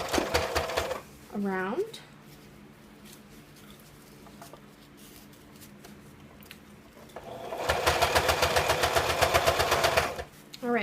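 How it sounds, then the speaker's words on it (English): A sewing machine stitches a pocket cloth diaper of PUL and fleece in two loud, rapid mechanical bursts, one short at the start and one longer near the end. A person speaks in the quieter stretch between them. "so I'm just going to start sewing"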